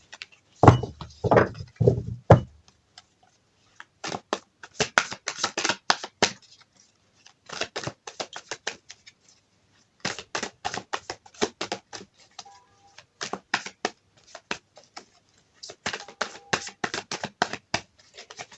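Tarot cards being shuffled for a cartomancy reading, close and crisp bursts of riffling and flicking in repeated clusters separated by short pauses.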